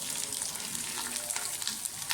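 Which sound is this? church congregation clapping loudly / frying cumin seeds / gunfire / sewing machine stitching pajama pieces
frying cumin seeds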